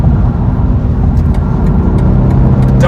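A 2021 BMW 4 Series Coupe accelerating hard, its engine note steady and loud in the cabin with brief breaks as quick gear shifts go through.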